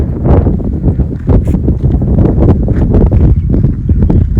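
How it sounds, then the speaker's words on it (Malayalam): Strong wind in the hills at Yercaud buffets the microphone in heavy, gusting roars that rise and fall continuously, loud and close, with no clear speech. "ആ സൂപ്പർ കാറ്റ് ചേട്ടാ, എന്താ കാറ്റ്"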